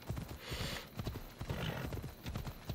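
Horse hooves clip-clop in Assassin's Creed Odyssey as a rider travels through woods, a steady rhythm of close, moderately loud hoofbeats on the ground with faint game ambience behind.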